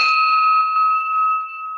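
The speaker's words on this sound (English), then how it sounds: "so I'll ring the bell to get us started here" A bell rung to open a Rotary Club meeting gives one clear, bright ding that rings on steadily and slowly fades over about two seconds, heard alone.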